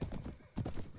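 Horse hooves clip-clopping in the video game Mount & Blade, a couple of quick soft hoofbeat clusters, faint and brief.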